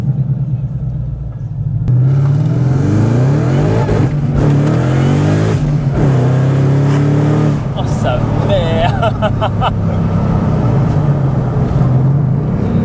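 A Mustang Shelby GT500 rated at 760 hp accelerates hard with wheelspin, its engine roaring and climbing through the gears from inside the car while occupants exclaim and talk.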